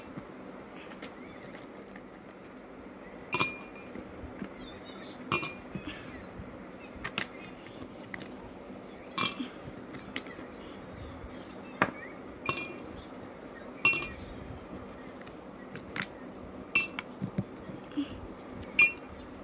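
Ice cubes clink against a glass of homemade mango juice in a series of sharp, separate taps spaced a second or two apart, fairly close, over a low steady background hum.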